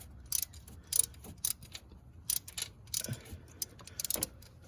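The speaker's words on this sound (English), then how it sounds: "what I'm using is a deep well socket, and I am putting that on the bolt itself." A ratchet with a deep well socket loosens a bolt during a camshaft position sensor replacement on a 2005 Nissan 2.5 L four-cylinder engine, giving faint, irregular bursts of clicking with no talking.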